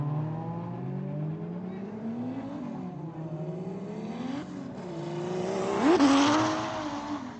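A drift car accelerates down the straightaway at a competition circuit, its engine climbing through rising, repeated revs and shifts before swelling louder near the end.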